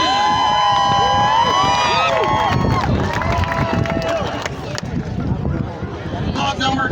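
Demolition derby crowd at an outdoor Fourth of July event cheering, shouting and making noise for a Volkswagen car, a loud continuous roar of many voices with whistles and screams.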